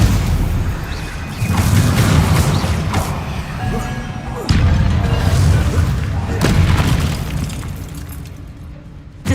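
A Stupefy spell cast in the video game Hogwarts Legacy, heard as loud, sustained booming, explosive blasts with a rumbling low end and crashing bursts that roll on for several seconds.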